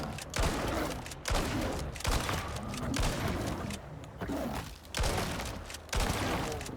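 Repeated loud shotgun blasts in the survival video game Icarus, about six heavy booming shots spaced roughly a second apart, each with a sharp attack and a rumbling tail.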